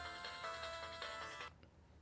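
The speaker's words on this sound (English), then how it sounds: "Phone's ringing, dude. Phone's ringing, dude. Just answer your phone." A phone ringtone plays in a game room, a bright repeating electronic melody at moderate level that cuts off abruptly after about a second and a half, leaving quiet room tone.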